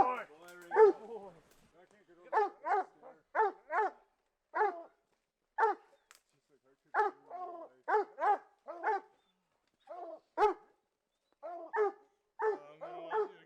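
A hunting dog during a cougar hunt gives repeated sharp barks and yips in irregular bursts, close and clear in the open, with brief gaps between volleys.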